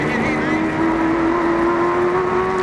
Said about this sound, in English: he just bounds off a curb there as they resume racing